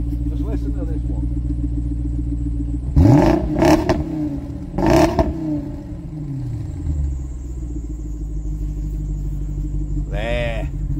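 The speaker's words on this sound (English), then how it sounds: "We'll let her warm up a bit, then we can give her a little bit of revving." A Jaguar XK8 V8 idles with a low steady rumble after a cold start, then gives several sharp throttle blips around the middle that swell loud and quickly fall back to idle, with a brief higher whine near the end.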